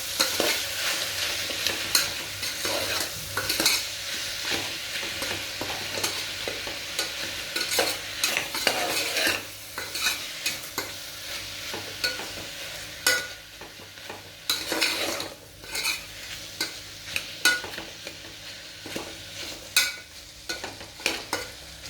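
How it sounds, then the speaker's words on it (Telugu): A vegetable khichdi mixture is stirred in a frying pan, the spatula scraping and clattering in irregular bursts over a low sizzle, close and fairly loud, with no speech. "ఇప్పుడు మొత్తం అంతా కలుపుకోండి ఒకసారిగా."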